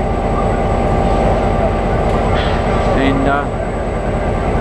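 A train rumbles loudly and steadily through a Brisbane railway station, close by and dominating throughout, with a voice briefly heard over the noise.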